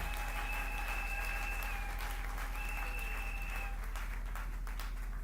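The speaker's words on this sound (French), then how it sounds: "Applaudissez un peu pour le Grand professeur." A church audience applauds a visiting professor with steady, moderate clapping over a constant low hum and tonal background sounds, heard at some distance.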